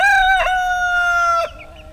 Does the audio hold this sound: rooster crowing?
yes